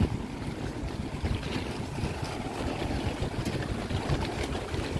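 Strong wind roaring steadily across the microphone outdoors, a dense low rumble with continuous buffeting and no voices.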